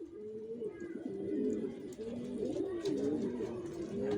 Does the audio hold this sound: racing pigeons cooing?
yes